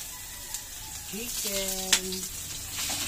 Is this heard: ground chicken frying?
yes